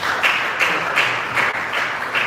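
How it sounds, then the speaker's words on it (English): Audience applause at a mental health awareness foundation event as a speaker comes up to the stage, loud clapping from a nearby crowd with a pulsing, uneven rhythm. "let us give up a round of applause as he comes up to address us"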